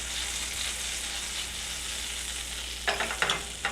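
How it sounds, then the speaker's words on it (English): Butter sizzling steadily in a non-stick pan ahead of an omelette, a constant close frying hiss, then a few sharper crackles and scraping stirs near the end, no voices. "I run the butter onto the edges of the pan"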